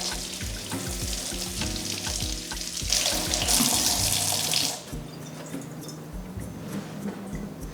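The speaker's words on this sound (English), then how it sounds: "I'll kind of use my nails and running water to just slightly scratch off some of the dirt" Mushrooms are rinsed under a running kitchen tap, with a steady close stream of water and a brief louder gush as the flow hits the caps before easing off.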